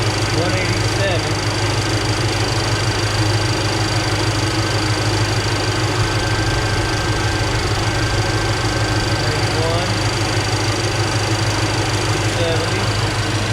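A car engine idles steadily while warming up, with a continuous low rumble and a faint hum running the whole time, close and fairly loud, under occasional quiet background sounds.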